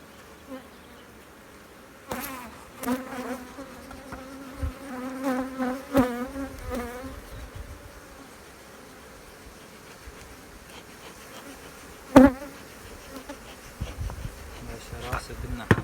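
Honey bees buzz around an open beehive during a frame inspection, a continuous close hum with swelling bursts of flight and a few sharp knocks, and a faint voice now and then.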